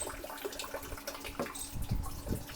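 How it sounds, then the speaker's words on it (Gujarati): Water pouring from a pump pipe into a barrel on a papaya farm, a steady close rushing splash with a few brief irregular surges, no talk. "પંપની નળી વાટે બેરલમાં આવી રહ્યું છે. આ પાણી તમે જોઈ શકો છો."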